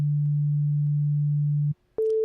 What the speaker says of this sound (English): like the pure fundamental tone of a sine wave